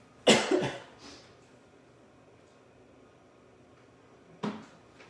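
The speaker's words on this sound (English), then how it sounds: "I end up coughing and hacking a lot" Two bursts of harsh coughing close by from dry-air irritation, a double hack at the start and another single cough a few seconds later, with quiet room noise between.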